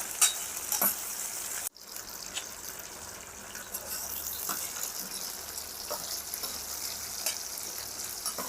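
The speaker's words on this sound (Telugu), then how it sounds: "పచ్చిమిరపకాయలు 1 కప్పు వేసుకున్నాము. వీటిని బాగా వేయించుకోవాలండి, అటు ఇటు తిప్పాలి." A cup of green chillies frying in a pan and stirred back and forth, giving a soft steady sizzle with scattered spatula taps and a brief sharp drop-out early on, fairly quiet and without voices.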